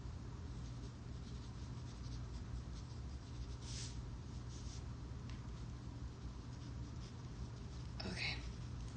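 A pen scratches on paper while a gratitude list is written, quiet and close with soft scribbling strokes and one sharper scratch near the end, under low background noise.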